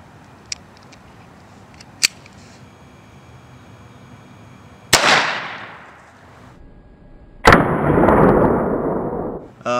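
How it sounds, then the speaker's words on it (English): .22 long rifle jacketed subsonic rounds fired outdoors: two small sharp cracks, then two louder shots each followed by a roaring, decaying rumble, with quiet gaps between. "Here goes, jacketed subsonic round."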